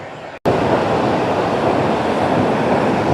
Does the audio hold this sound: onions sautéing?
no